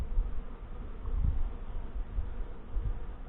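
Honey bees from a Saskatraz-queen hive buzz steadily around an opened box during a frame inspection, a dense, low, continuous hum with soft swells and no voices.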